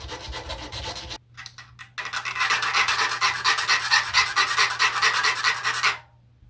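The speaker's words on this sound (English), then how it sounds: "So we need to just open the aluminium up a little bit. All I'm using is needle files just to open these holes up." Needle files rasp through small holes in aluminium sheet, a brisk run of rapid back-and-forth strokes after a few brief scrapes, close and clear with no talk.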